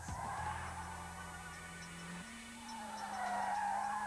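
A 1996 Nissan Primera's tyres skid through an emergency lane change test at motorway speed, a steady loud screech with a rising engine tone, continuous for about four seconds with no talk.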